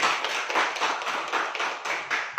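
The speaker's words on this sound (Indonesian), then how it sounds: "Berikan aplaus untuk kita semua." Audience in a school classroom applauding together, a dense steady patter of many hands clapping close by for a couple of seconds with slight swells, no talk over it.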